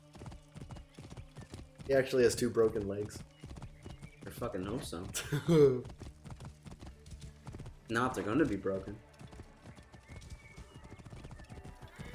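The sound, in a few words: horse hooves and neighing in video game Assassin's Creed Origins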